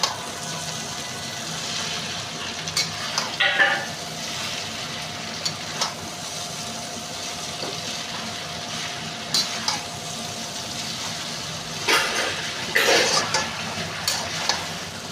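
Boiled chow mein tossed with vegetables in a pan gives a low, continuous sizzle broken by occasional scraping and clattering from stirring and mixing. No one speaks.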